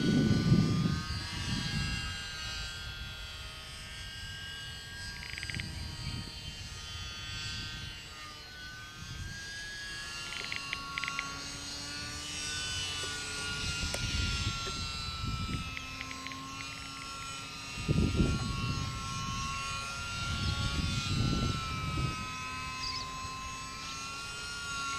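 E-flite UMX Gee Bee R2, a small electric RC plane, whines steadily overhead at full throttle, its tone rising and falling as it passes, with brief low wind buffets and no talk.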